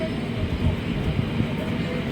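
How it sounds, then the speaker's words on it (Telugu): Train pulling out of Timmapur railway station on the Kurnool–Kacheguda run, a steady low rumble of wheels and coach movement filling the background throughout. "మన ట్రైన్ ఆన్ టైంకి అయితే బయలుదేరుతుందండి"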